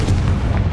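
A single heavy magical blast booms from the Confringo fire spell in the video game Hogwarts Legacy, a loud, short, low explosion.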